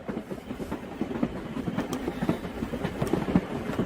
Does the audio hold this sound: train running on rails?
yes